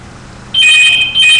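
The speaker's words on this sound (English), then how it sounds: "sorry about the phone ringing." A phone rings indoors with a loud, sharp electronic trill, two bursts back to back after a brief quiet moment, with no talk over it.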